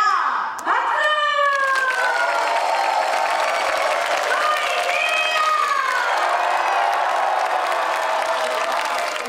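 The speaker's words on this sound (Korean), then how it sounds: "여러분들의 박수 소리와 환호 소리를 한번 들어보도록 하겠습니다" Audience at an outdoor tightrope walking performance bursting into applause and cheering, a sharp start followed by sustained clapping and shouts from a sizable crowd, with scattered voices and whistles throughout.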